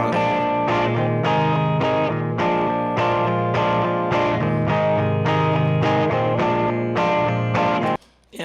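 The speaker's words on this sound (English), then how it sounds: "a little bit of distortion, very like on the edge of distortion" An electric guitar strums rhythmic chords from a cover song with a light, slightly gritty distortion, loud and steady, stopping abruptly near the end.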